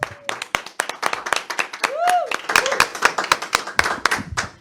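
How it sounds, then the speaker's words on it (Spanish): Scattered hand clapping from a small group, fairly close, with a few voices and a whistle-like tone rising over it midway. "te despedimos con un fuerte aplauso"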